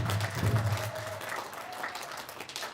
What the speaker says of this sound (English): just want to give them some special recognition and a round of applause again